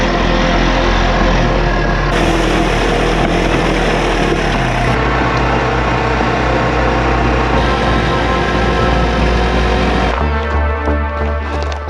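Yamaha TW200 motorcycle ridden on dirt roads, a steady, loud engine drone that holds close and constant, with its pitch shifting a few times as the bike changes speed.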